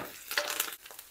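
Garlic, onion and curry leaves fry in a hot pan for a crab curry stir-fry, giving a short burst of soft, hissing sizzle with faint stirring, close and brief without speech.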